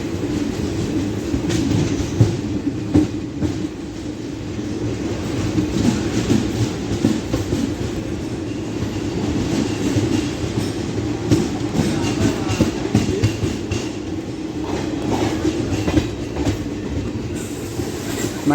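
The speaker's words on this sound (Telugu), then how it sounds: "మన ట్రైన్ ప్లాట్ఫామ్ నెంబర్ 1 పైకి వచ్చింది." A passenger express train rolls into platform 1 of a small two-platform station in Telangana, its steady rumble and low wheel noise continuous and fairly loud throughout, with faint voices in the background.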